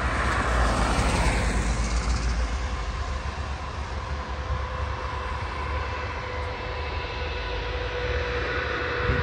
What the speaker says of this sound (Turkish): Şimdi uçağın biri geliyor, biri gidiyor.